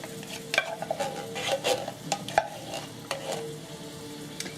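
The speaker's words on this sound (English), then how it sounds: "Now, I've already got my heat going here. You can hear the sizzle." Coconut milk and sugar sizzle in a pan over medium heat for a vegan fudge, the soft bubbling broken by repeated close spoon scrapes and light pan clinks in an uneven rhythm, no voices.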